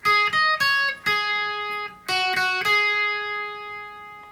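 Electric guitar plays the first half of a song's solo: a few ringing picked notes with clear sustained harmonics, the last one left to ring out, played alone and close.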